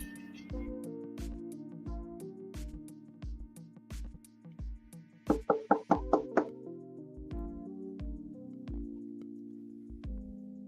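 Repeated knocks on a door in Hollywood, a steady series of sharp raps over a low background hum, with one faster burst of louder knocks midway before the slower rhythm resumes.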